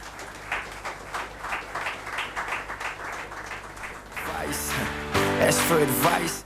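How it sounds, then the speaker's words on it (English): Audience applause at a finance seminar in Chennai, a steady wash of clapping that swells louder partway through as music with a sustained tone comes in beneath it. "let's have the round of applause going"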